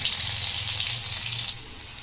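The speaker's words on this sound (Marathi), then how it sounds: "तेल गरम झालं आहे, त्यामध्ये आपण टाकू जिरे मोहरी, ठेचलेलं लसूण" Cumin, mustard seeds and crushed garlic crackle and sizzle in hot oil, a steady bright frying hiss close by that drops slightly in level near the end, with no talk over it.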